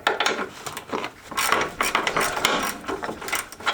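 Ratchet clicking steadily as an engine mount bolt is tightened on a Jeep Cherokee XJ with upgraded mounts, close and fairly loud with dense broadband rasping bursts through the whole stretch.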